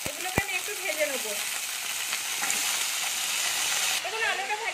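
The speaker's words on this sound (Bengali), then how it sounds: "আলুগুলোকে আমি বড় বড় করে কেটেছি, এগুলোকে আমি একটু ভেজে নেবো।" Large-cut potato pieces frying in oil give a continuous close sizzle with stirring and a few scraping knocks of a utensil against the pan, with no talk over them.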